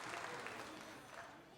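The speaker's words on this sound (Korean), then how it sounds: "축하의 박수를" Studio audience at a live Korean broadcast reuniting separated families applauds to congratulate a brother and sister meeting after 38 years; dense, steady clapping fills the short stretch at moderate distance, with talk faintly mixed in.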